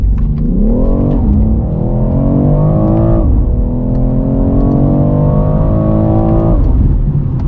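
A 2022 BMW X3M Competition accelerates hard from inside the cabin, its engine note rising steadily through two quick gear changes and holding loud and continuous throughout.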